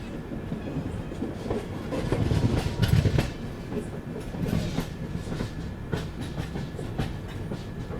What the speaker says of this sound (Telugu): 246 కిలోమీటర్లు కవర్ చేసి 50 నిమిషాలు లేట్గా మన ట్రైన్ అయితే ఎర్రగొండ జంక్షన్ స్టేషన్కి అయితే చేరుకుందండి